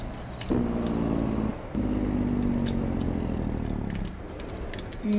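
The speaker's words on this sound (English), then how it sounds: "I love the Jake brake on this truck" A truck's Jake brake in Farming Simulator 22 chatters as a loud, steady low engine drone that holds for several seconds, dips out briefly, returns, then drops off near the end and restarts.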